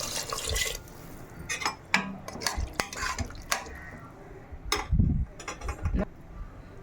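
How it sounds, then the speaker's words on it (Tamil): Water is added to a pot of mutton curry, with splashing amid clinks and scrapes of a utensil against the metal pot, coming in short irregular bursts at close range without any talking. "இந்த ஸ்டேஜில் மட்டனை வேகிற அளவுக்கு தண்ணி சேர்த்துக்கலாம்."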